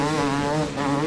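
A steady buzzing dirt bike engine note at an enduro hill climb race, with a slight dip and recovery, held at revs, close and continuous.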